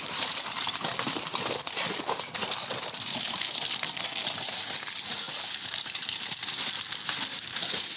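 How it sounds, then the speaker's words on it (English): Aluminium foil crackles and crinkles steadily as it is pressed and folded into the corners of a baking pan, a dense continuous rustle up close with no talk. "So just move the foil down into the corners of the pan and fold it over."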